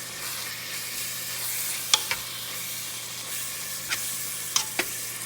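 Ground meat for New Orleans dirty rice sizzling in a pan, a steady soft frying hiss with a few sharp scrapes and clicks as a utensil stirs and breaks it up, no talking.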